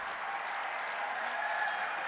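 At a marching band championship in Thailand, the crowd applauds to welcome the band from Suranari Wittaya School, Nakhon Ratchasima, a soft even wash of distant clapping lasting a couple of seconds.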